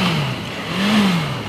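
A Honda CB650F motorcycle engine revs up, drops, then climbs again after slipping into false neutral, a loud close whirring tone rising and falling.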